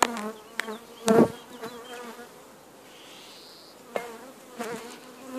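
Honeybees buzz steadily around an open hive during artificial swarm work, a close continuous drone with a few louder passes as bees fly near, with occasional knocks.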